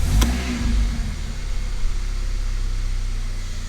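A Mercedes A45 engine starts with a brief crank and then settles into a loud, steady idle that runs on alone, with a faint rattle under the low rumble.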